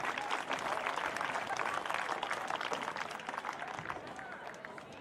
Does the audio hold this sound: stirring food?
no